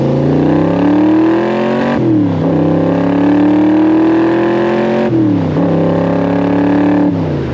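A loud 585-horsepower V8 in a 1965 Shelby Cobra 427 replica close by winds up through several rising pulls in second gear, the pitch climbing, dipping at each shift, then climbing again.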